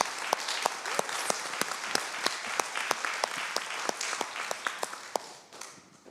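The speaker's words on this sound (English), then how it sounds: "let's give a round of applause and appreciation for Christine Cooley" Sustained audience applause at a climate action forum: dense, steady clapping from a crowd with sharp individual claps standing out, tapering off near the end.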